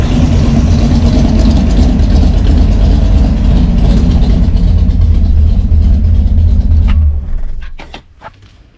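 Car engine idling with a Brawler 650 CFM double pumper mechanical carburetor, a steady loud low rumble with a lumpy cam profile that runs for about seven seconds before it shuts off, followed by a few faint clicks.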